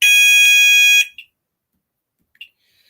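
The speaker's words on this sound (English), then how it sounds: "Or I can turn the sounder on." A fire alarm sounder on an addressable fire panel loop sounds a loud, steady electronic tone for about one second, followed by two short faint beeps.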